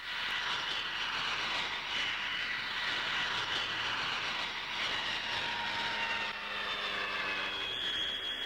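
A Handley Page Dart Herald airliner with two Rolls-Royce Dart turboprop engines runs steadily, a loud, continuous roar with a whining tone, close and unbroken with no talk.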